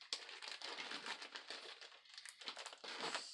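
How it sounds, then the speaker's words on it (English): Crinkly plastic ball bands from hand-dyed yarn are handled and rustled close up, giving a steady run of sharp, papery crackles with brief pauses and a renewed burst near the end. "Sorry for the crinkling"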